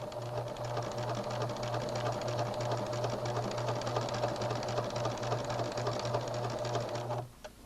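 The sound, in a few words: sewing machine stitching a dart next to tape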